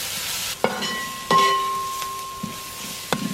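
Garam masala and other spice powders stirred in a pan for kappa biriyani, giving a few sharp scrapes and clinks of the spoon against the pan under a faint background hum.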